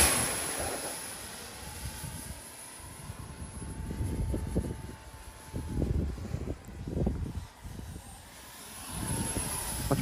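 A model X-29 aircraft flies overhead outdoors, its small motor buzzing steadily with a faint thin whine, swelling and fading as it passes at varying distance, no voices present.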